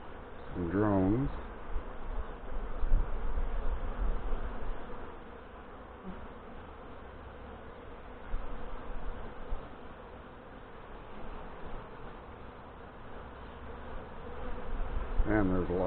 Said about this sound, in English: there's a lot of bees in this hive